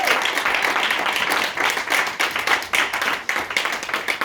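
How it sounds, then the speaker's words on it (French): Worshippers in a church clap loudly together, with individual claps audible in a dense, rhythmic burst that pulses steadily throughout. "on doit acclamer son message encore"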